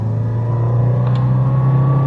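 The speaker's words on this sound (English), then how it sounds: "And it just keeps revving and revving." An Alfa Romeo Alfasud car engine drones loudly and steadily at high revs, its pitch slowly climbing, heard close up without any voices.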